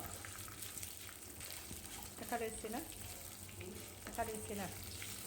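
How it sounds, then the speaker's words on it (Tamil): Green chillies, garlic, shallots and ginger fry in hot oil with a steady sizzle, with a few sharper bursts of stirring and spattering. "பச்சை மிளகாய் நாலு பூண்டு அஞ்சுலேருந்து ஆறு சின்ன வெங்காயம் ஒரு சின்ன துண்டு இஞ்சி இதையும் சேர்த்துட்டு நல்லா வறுத்துக்கலாம்"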